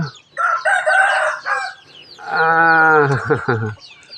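Chickens cluck and a rooster crows loudly nearby, with short bursts of clucking followed by a long drawn-out crow.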